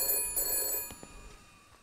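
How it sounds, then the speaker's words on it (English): An old-style telephone bell rings in the video game Shadows of Doubt, with a bright, steady ringing tone and a few short clicks. It sounds moderately close and fades slightly toward the end, with no voices. "Oh, answer the telephone."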